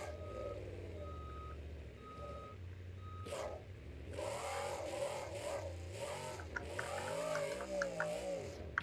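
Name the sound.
monster truck engine doing wheelie in BeamNG.drive video game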